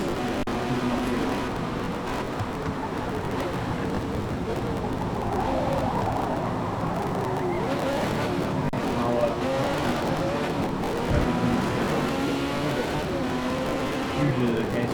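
A Ferrari 458 Italia, a mid-engine car, in the Forza Motorsport racing game: a steady engine drone held throughout at constant loudness, with brief tyre noise, while someone talks over it.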